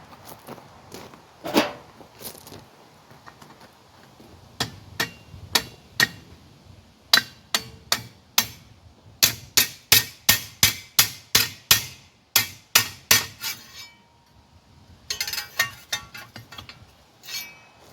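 Metal blows ring out as a smith hammers the socket langets of a halberd over a mandrel, sharp clinking strikes in irregular bursts, including a fast steady run of evenly spaced hits, close and loud with quiet gaps between.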